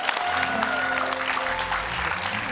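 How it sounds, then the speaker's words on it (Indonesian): Audience applause for a comedian at a sketch comedy show, dense clapping running steadily throughout, mixed with a sustained musical tone and crowd noise underneath. "Tepuk tangan untuk Abdur ya."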